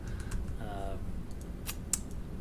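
Clicky computer keyboard keys are tapped in short bursts close by, a few sharp clacks against a steady room hum, with a voice briefly audible partway through.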